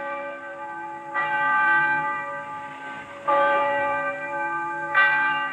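A church bell tolls three times, each strike ringing out loud with a long, humming decay that lingers into the next.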